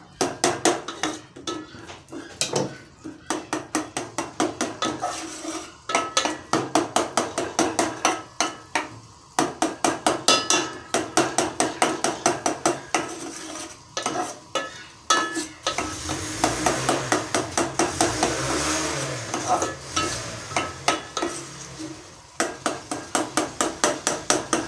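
Cooked tomatoes being mashed with a spoon in a pot for a mixed potato, pea, carrot and fenugreek sabzi: rapid, steady metallic tapping and scraping against the pot in bursts, close and clear, with a soft sizzle underneath.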